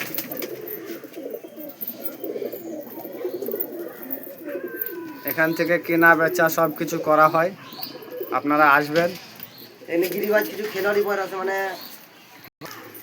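Pigeons coo at a busy pigeon market where birds are bought and sold, their calls rising in bursts through the middle and end while someone talks steadily throughout.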